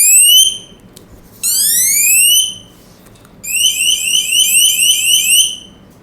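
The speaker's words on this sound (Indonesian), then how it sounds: "ada siren seperti ini" Electronic device sounding a piercing high-pitched siren alarm in three bursts of rapidly sweeping or warbling tones, very loud and close, with quiet gaps between.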